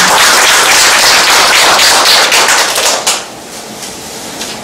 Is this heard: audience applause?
yes